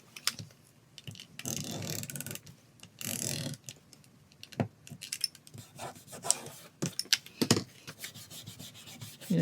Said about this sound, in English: I'm just kind of smoothing it down with my finger